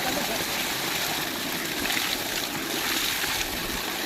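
Water gushing steadily from a Texmo AC solar-powered vertical stage pump, a constant bright rushing flow close by with no break, and no clear talk over it.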